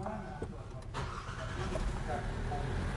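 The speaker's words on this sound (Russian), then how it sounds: "Все, двигатель запущен." A Hyundai Tucson engine turns over and catches, settling into a low idle, with a voice talking over part of it.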